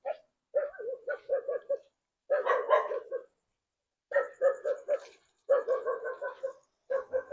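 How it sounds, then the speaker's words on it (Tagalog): A dog barks in repeated bursts of several quick yaps each, close and fairly loud, with short silent gaps between volleys, indoors in a house at night. "Ang aso."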